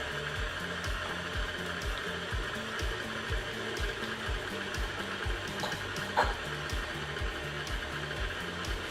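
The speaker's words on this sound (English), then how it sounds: "So for this one I decided to use the giant mixer." A large stand mixer beats oatmeal raisin cookie dough with a low motor drone and a steady repeating churn from the rotating beater, quiet and close, with a small knock near the end.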